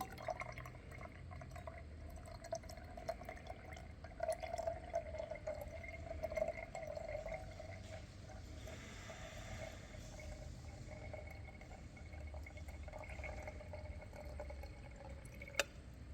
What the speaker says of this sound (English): And here we go, I'm pouring it in.